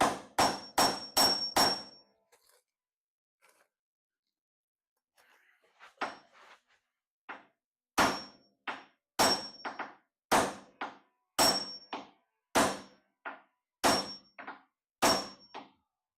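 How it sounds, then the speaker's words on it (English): Hammer blows striking metal while a car torque box is fitted, sharp close clangs in a quick burst of five, a pause with faint rustling, then a steady series of about nine evenly spaced loud strikes. "Should probably use the other hammer if I'm whacking that close to my face with a hatchet."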